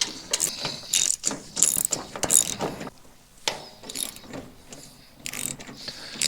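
A ratchet works bolts free from the back panel of a hay baler, sharp rapid clicking in short bursts separated by brief pauses, close and clear.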